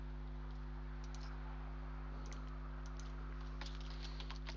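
Fingers tap out a hostname on a computer keyboard while setting up a router, a scatter of faint, quick key clicks in uneven bursts over a steady low electrical hum.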